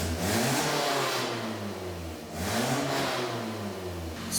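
Toyota All-Trac car engine revving with a repaired but still slightly leaky exhaust near the muffler, two rising-and-falling revs heard close up, loud and alone.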